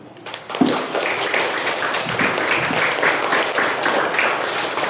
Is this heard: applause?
yes